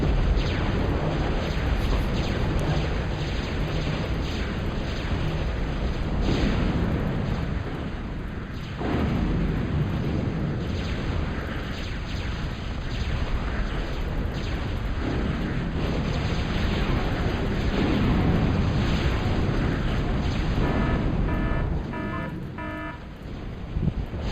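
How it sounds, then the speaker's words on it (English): Submarine force firing in a strategy video game: a dense, continuous rumble of booming blasts and explosions layered over one another, loud and sustained throughout, with a few faint tonal blips near the end. "I do love the sub force firing that's still going on."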